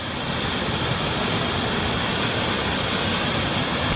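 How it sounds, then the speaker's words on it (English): Steady, dense roar of a waterfall close by, a loud continuous rush of falling water with no voices. "See if we can get underneath the waterfall."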